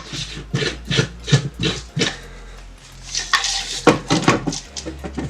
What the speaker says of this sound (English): And put the lid on.